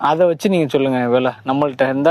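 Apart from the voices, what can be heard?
No everyday noises stand out.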